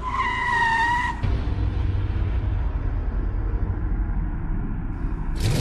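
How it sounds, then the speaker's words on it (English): Car tires squeal sharply for about a second during a rapid U-turn, then give way to a loud, continuous low rumble of the moving car, with no voices. "He simply turned the car rapidly in a U-turn,"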